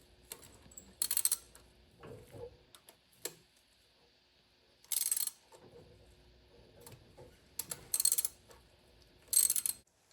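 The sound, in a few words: tightening carburetor bolts on a 1985 Chevy Caprice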